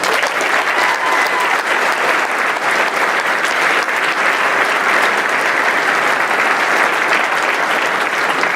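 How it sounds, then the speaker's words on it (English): Sustained, loud crowd applause fills a military academy graduation ceremony, a dense steady wash of clapping from many hands lasting several seconds with no pause. "Let's give them a round of applause."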